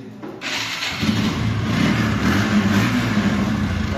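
A TVS Apache RTR motorcycle engine starts up and then runs at a steady idle close by, a continuous low rumble heard alone.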